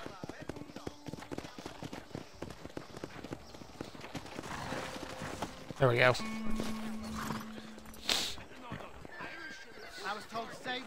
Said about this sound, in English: Walking into my horse does not help me.